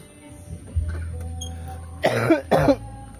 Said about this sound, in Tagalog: nagkasakit po tayo, inuubo po tayo